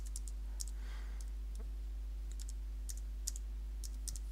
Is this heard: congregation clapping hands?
no